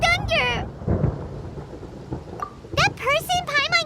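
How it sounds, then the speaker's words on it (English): Thunder rumbles low and heavy in the video game Genshin Impact, rolling beneath and between character voices speaking nearby. "Paimon hears thunder!"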